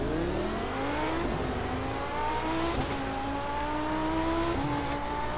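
Car engine in The Crew 2 racing game with manual gearbox, revving steadily upward through several gear changes, each shift dropping the pitch before it climbs again, loud and continuous with no talk.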